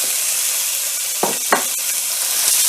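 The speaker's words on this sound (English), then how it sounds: "we've heated up the oil in the pan, and then what we're going to do now is add the meat" Minced meat hits hot olive oil in a pan for spaghetti bolognese, producing a loud, steady sizzling hiss broken by a couple of short stirring bumps.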